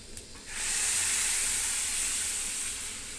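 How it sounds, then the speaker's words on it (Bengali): Water poured into a hot pan of fried food sets off a sudden loud steaming hiss that swells after a quiet start and holds steady, easing slightly toward the end. "একটু আমি জল দিয়ে দেবো।"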